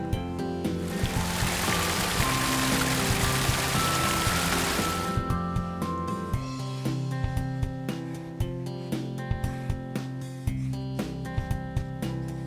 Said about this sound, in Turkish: Şimdi kuma suyumuzu ekleyebiliriz.